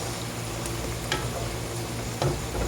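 Potatoes fry in hot oil with a dense, continuous sizzle close by, punctuated by a couple of light clinks from stirring.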